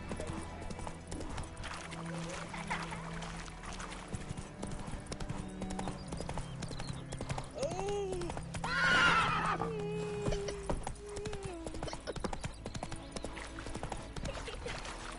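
Horse hooves clip-clop steadily in The Witcher 3 while the horse is ridden, with a loud neigh or whinny rising midway above the game's ambient sound and music.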